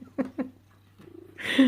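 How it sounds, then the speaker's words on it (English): A pet cat named Simba, wanting attention, gives two short close meows, then a softer murmur and a louder drawn-out cry at the end, all in a quiet room. "I have a cat who wants attention"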